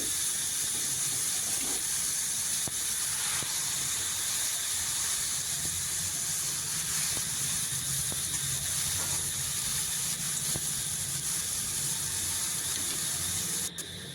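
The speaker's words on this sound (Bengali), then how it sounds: "পেঁয়াজটা একটু ভেজে নেওয়ার পর এবার সবজিগুলো দিয়ে দিচ্ছি" Vegetables sizzle in a pan over onion that has already been fried, while cooking a Bengali morla fish bati chorchori: a steady, loud, continuous hiss that runs unbroken for the whole stretch, with no talking.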